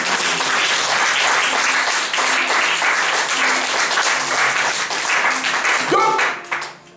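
A church congregation bursts into dense, sustained applause that fills the room steadily for several seconds, with a few voices underneath, before fading out at the end.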